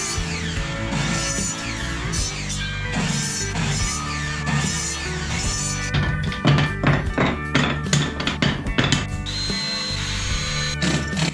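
Power saw cutting eight wooden pieces at an angle on both sides for a shoe rack, a steady buzzing whine with repeated cuts and knocks toward the end.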